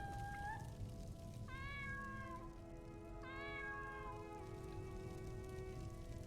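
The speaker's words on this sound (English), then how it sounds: "I heard a kitty cat." A cat meows three times, one short call followed by two longer, drawn-out ones, over a constant soft rain-like hiss with no talking.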